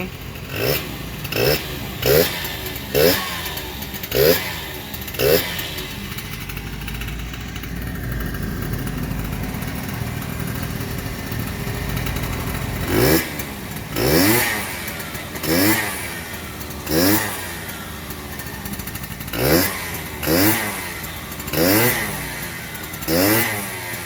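A Honda AF28 scooter fitted with a V8-style exhaust pipe and a 44 mm bore kit, revved repeatedly in a workshop. The short throttle blips come in a steady rhythm, with one longer idling stretch in between, loud and close.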